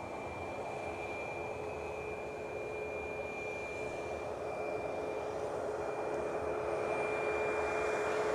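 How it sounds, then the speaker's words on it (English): An EasyJet airliner arriving at Edinburgh airport, a steady engine roar with a constant high whine that grows slightly louder as it approaches. "An EasyJet inbound."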